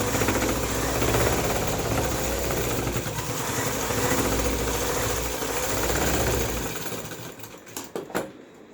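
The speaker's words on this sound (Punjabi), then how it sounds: "ਇੱਧਰ ਲਾਸਟਿਕ ਦੇ ਉੱਪਰ ਸਲਾਈ ਲਾਵਾਂਗੇ ਆਪਾਂ" A sewing machine rattles rapidly and steadily while stitching over elastic on a baby dress, running loud and close before slowing and stopping with a few final clicks.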